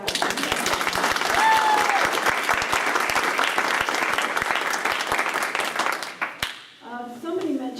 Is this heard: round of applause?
yes